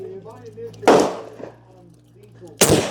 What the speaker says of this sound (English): Shooting my 30-06.